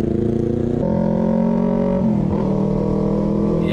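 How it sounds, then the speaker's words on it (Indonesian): An R9 motorcycle exhaust roars steadily up close, a deep throbbing drone with a slight shift in pitch partway through. "Suaranya menggebu-gebu tuh knalpot R9."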